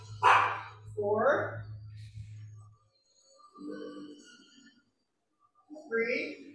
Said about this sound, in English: A cacophony of leaf blowers and dogs.